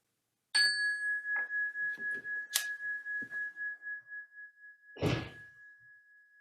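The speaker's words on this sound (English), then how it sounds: "one strike of this chime, listening with our fullest possible attention for the very last trace of this fading sound." A chime is struck once and rings a clear, sustained tone that pulses gently as it fades slowly away. A few soft knocks and a rustle sound nearby.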